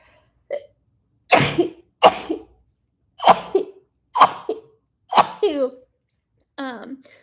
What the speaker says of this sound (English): I'm going to sneeze real quick.